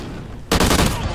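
Gunfire in the video game Call of Duty Ghosts: after a quiet moment a loud, rapid burst of automatic shots erupts, dense and close, rattling on for about half a second.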